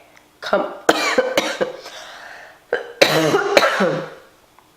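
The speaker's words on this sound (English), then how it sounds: "As I cough now." Several harsh coughs and throat-clearing bursts in two clusters, close and loud, with short pauses between them.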